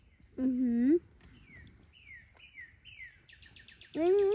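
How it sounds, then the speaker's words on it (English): A songbird perched in a tree beside a picnic grill repeats quick, descending chirps in a steady run, with brief human voices just before and after. "So songbird, you hear it singing?"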